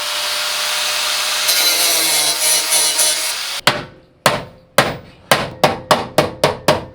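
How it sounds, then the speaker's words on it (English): Hammer blows fold down slits cut into the corners of a custom metal bash bar during a welding build, about eight sharp, ringing strikes speeding up toward the end after a stretch of steady workshop noise. "making like 4 slits in the corners and we could just hammer them down"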